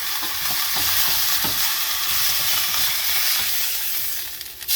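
A beef pot roast sears in a hot pan, giving a loud, steady sizzle and frying hiss throughout, with occasional scrapes and taps as the meat is moved, fading slightly at the end.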